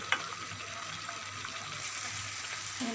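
Food frying in a pan during home cooking, a steady soft sizzle with a faint watery hiss running throughout, low in level, with a brief clatter near the start and another near the end.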